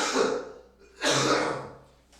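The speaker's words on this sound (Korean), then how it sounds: "기침 한번 할게요." A man coughs twice at close range, two harsh, breathy bursts about a second apart, with no talking during them.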